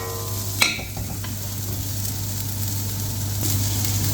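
Vegetables and rice stir-frying in a pan for a spicy vegetarian Chinese fried rice, a steady sizzle with a sharp clatter of stirring near the start and another later, no voices.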